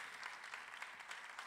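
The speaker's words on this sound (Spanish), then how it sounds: "Y por ello quiero pedir un fuerte aplauso" A crowd at a fiftieth-anniversary folk group performance applauds the sound technician, a short, continuous wash of faint, distant clapping.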